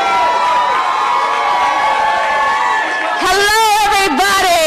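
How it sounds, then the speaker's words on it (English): An outdoor crowd at a cannabis rally in Union Square cheers and claps in a dense, continuous wash of voices and applause, then a single amplified voice begins speaking over it. "Round of applause."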